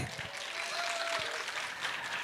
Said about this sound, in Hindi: जोरदार तालियां हो जाए फॉर सीनिंग संदूक एवरीबॉडी